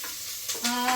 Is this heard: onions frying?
yes